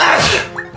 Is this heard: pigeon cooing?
no